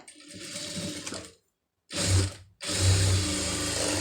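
Sewing machine tack stitching a dart on a garment, heard close up in three short mechanical runs separated by brief silences, with a steady rattling whir.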